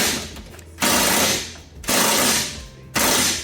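A ratchet wrench working the rear bolts on a 2023 Toyota GR Corolla, three loud close bursts of fast clicking ratcheting, each about a second long, separated by short pauses.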